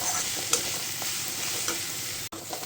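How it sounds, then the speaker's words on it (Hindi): Whole spices and finely chopped onion frying in a pan, giving a steady close sizzle with light stirring scrapes and a brief clack near the end, with no voices. "ये मसाला भून रहा है।"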